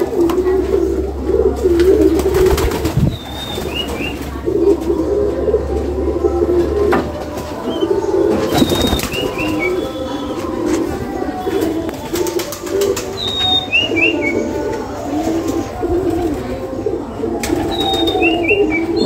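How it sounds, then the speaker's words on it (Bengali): Pigeons forage outdoors on a farm, cooing close by in repeated soft rounded calls, with bursts of wing flapping and short chirps over a steady low background hum. "এখানে এই কবুতরটা,"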